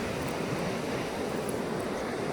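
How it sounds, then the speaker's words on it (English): Wind and ocean surf at an island beach make a steady, loud, broadband roar that never lets up, with no distinct breaks between waves. "Sorry about all the noise in the background, all the wind and the waves."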